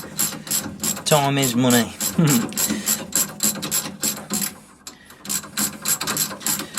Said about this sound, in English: I dug out the socket set, that's a lot easier